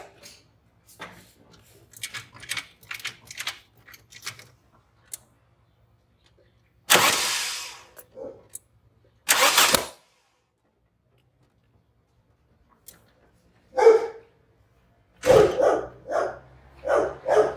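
A VW 1.8 engine cranked over by its starter in several short, loud bursts separated by quiet pauses, with no talking.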